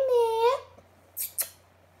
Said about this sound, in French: Elle miaule tout le temps vers la porte du scoron par ma cuisine.